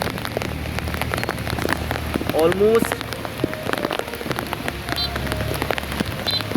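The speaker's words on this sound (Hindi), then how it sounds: "टाइम पे सायमा अरेवलास के अंदर शदीद बारिश हो रही है" Heavy monsoon rain pours down in North Karachi during a cloudburst, a dense, steady hiss of drops drumming on surfaces, close and loud throughout, with someone speaking briefly underneath.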